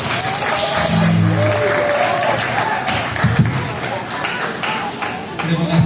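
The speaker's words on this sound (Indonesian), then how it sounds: "Tepuk tangan buat Natalia." Students applaud in a high school hall, a sustained patter of many hands clapping that runs under a speaker's amplified voice and a few scattered louder claps.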